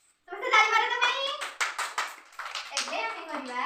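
Children in a classroom counting activity clap their hands a few times in short bursts, mixed in with children talking nearby.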